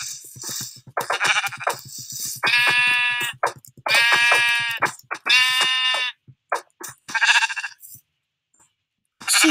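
Sheep in the Minecraft video game bleat repeatedly in loud, buzzy bursts, several calls in a row with short gaps between them and no talk.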